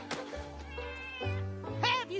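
Cartoon cat meowing from My Little Pony: Friendship Is Magic, Season 9 episode "Going to Seed": a few short, close, tonal mews with rising and falling pitch, the last one higher and brighter, over a faint steady background.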